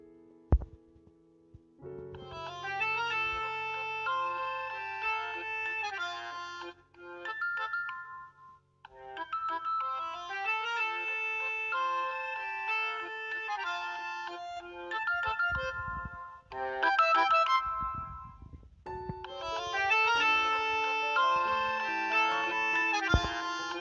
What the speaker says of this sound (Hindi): तो जैसे ही आपने प्ले साउंड पर क्लिक किया तो आपका मोबाइल लाउडली बोलने लग गया।